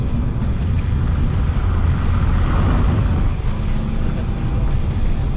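A 120 hp Toyota Yaris petrol with a manual gearbox drives along, its engine droning loud and steady from inside the light car, with a slight swell in pitch midway and no talk.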